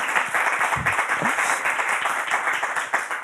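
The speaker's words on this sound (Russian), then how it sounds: "И эти аплодисменты, если ты их услышишь," A studio audience applauds with dense, steady clapping that stays loud and sustained throughout.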